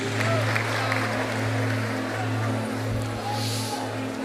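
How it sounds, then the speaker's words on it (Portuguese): A church congregation applauding during an evangelical gathering, a continuous wash of clapping and crowd noise beneath a steady low hum, with voices faintly mixed in. "dando a Jesus uma linda salva de palmas"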